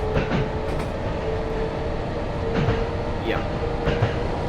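HR1500 series electric train in a train simulator game on the Sankai Main Line, running at about 100 km/h: steady continuous rolling and motor rumble with faint rhythmic rail clicks and brief squeaks, with someone talking over it.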